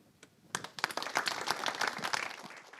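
An audience at a regional election round table bursts into applause, the clapping building quickly from a few scattered claps into dense, sustained applause heard close and clear without talk.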